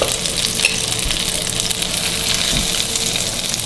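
Butter, two tablespoons, melting in a hot pan on the stove gives a steady close sizzle that holds at an even level throughout, with no talking.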